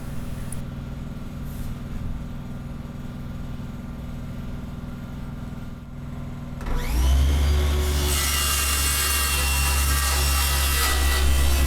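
A saw cuts through a sheet of 1/4 inch marine plywood, starting as faint scraping and then turning into loud, steady, close-up rasping strokes for the last few seconds.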